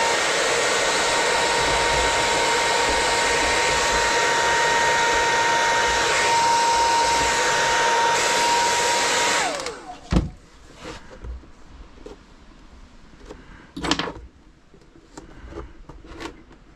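A heat gun blows a steady, loud broadband roar for about nine seconds while warming vinyl stickers on an RC car, then cuts off, leaving faint handling clicks and a couple of sharp knocks.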